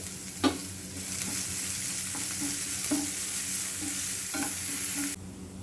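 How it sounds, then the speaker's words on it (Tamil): Chopped onion, ginger and green chilli fry in a pan with a steady close sizzle, broken by a few sharp scrapes and clicks of stirring, before the sound cuts off abruptly near the end. "ஒரு வெங்காயம் இந்த மாதிரி பொடிசாக கட் பண்ணதை அதையே போட்டுக்கிறேன்."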